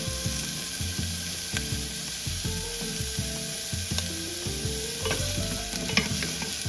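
Fajita onions frying on a Blackstone griddle sizzle steadily while a spatula scrapes and stirs them in a quick, repeated rhythm of close, clattering strokes.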